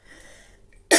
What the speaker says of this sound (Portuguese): tô com uma tosse terrível